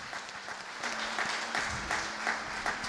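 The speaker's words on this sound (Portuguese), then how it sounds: "Eu gostaria que a todos os irmãos dessem uma salva de palmas ao nosso missionário Ademir." Church members give a round of applause for a missionary, moderate sustained clapping from the congregation with faint voices beneath.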